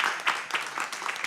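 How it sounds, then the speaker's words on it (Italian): Brief burst of audience applause at a literary prize ceremony for the second-place finalist, a short patter of clapping hands with soft pulses. "Un applauso."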